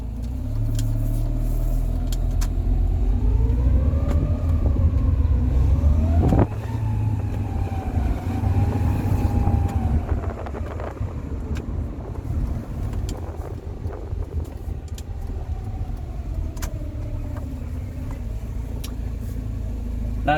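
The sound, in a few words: Rover 45 Impression S3 CVT car running with a possible bearing noise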